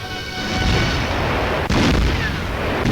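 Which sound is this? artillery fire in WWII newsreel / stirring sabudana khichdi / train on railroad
artillery fire in WWII newsreel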